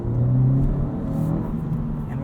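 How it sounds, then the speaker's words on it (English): A 2022 Honda Civic Si sedan engine rumbles and revs from the cabin, with a steady droning hum and a brief rise in pitch as the throttle is blipped, alone without talk. "rev matching and blipping the throttle yourself in the Civic Si"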